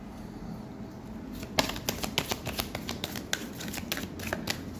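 Tarot cards riffled and drawn from a deck, a run of quick crisp paper flicks and snaps that starts partway in and repeats close and fairly quiet over a faint steady background hiss.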